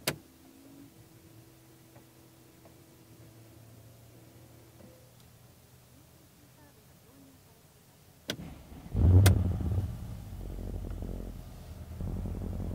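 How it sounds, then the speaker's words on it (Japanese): Quiet interior hum with faint ticks inside a 2015 Mercedes-Benz S550 Long, then a starter whirs and the engine catches and roars to life, settling into a steady idle. "ではエンジンを始動します。"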